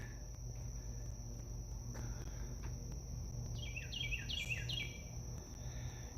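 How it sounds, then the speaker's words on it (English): Carolina wren singing on a woodland trail beside a sycamore, a short run of quick, rolling phrases partway through, faint and somewhat distant above a constant insect drone. "over here we're hearing a Carolina wren"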